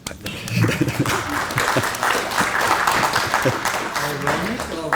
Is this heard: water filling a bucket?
no